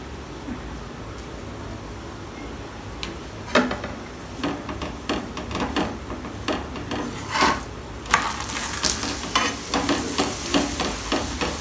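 Rice flour roti (pashti) cooking in oil in a pan, a steady close sizzle broken by scraping, rubbing strokes as the flatbread is turned and pressed.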